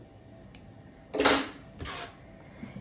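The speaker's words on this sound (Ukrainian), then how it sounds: "Тут я обрізаю ниточки" Scissors snipping yarn threads on a hand-knitted bow, two short crisp cuts about half a second apart, close by, against a quiet room.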